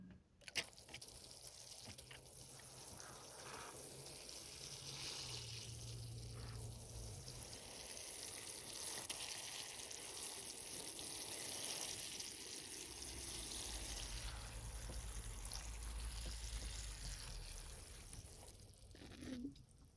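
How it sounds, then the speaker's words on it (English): Water pours and patters steadily onto soil and leaves of a black walnut bonsai tree for a long stretch, close and fairly soft, with faint handling noises. "Let's get some water on this."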